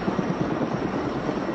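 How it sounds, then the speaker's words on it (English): Air crane helicopter with jet engines lifting straight off the ground, giving a steady, loud roar with a faint rhythmic rotor pulse throughout, no voices. "I can lift a heavy load because of the power of my jet engines and the length of my rotor blades."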